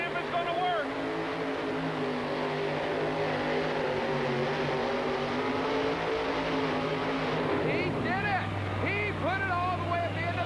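A truck-pulling engine with a brand new engine combination roars steadily at a 1989 truck and tractor pull in Memphis, a sustained loud drone with shifting pitch, as a crowd and an announcer's voice come in near the end.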